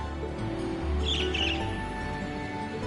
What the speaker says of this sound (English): It was just a strange bird on that lamppost over there